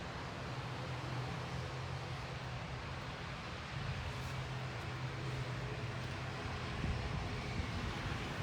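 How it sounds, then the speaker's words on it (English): Airplane taking off at Grantley Adams International Airport in Barbados, heard from a roadside near the old airport: a steady, broad engine roar that stays loud throughout, with no voices. "Another plane taking off too."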